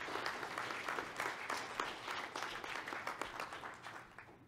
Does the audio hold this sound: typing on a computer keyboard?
no